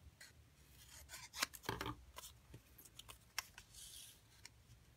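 Scissors snip glossy cardstock in a few quick, close cuts with rustling paper handling between them, faint and without speech.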